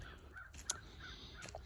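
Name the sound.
crows calling in nature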